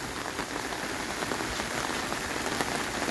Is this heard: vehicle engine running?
no